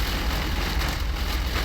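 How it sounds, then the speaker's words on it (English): Heavy thunderstorm rain roars steadily against a truck, heard from inside the cab as a dense, loud, unbroken wash of noise. "Oh yeah, it's definitely raining really bad now"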